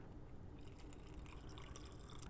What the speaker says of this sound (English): So now we're gonna pour that into the aconite jar.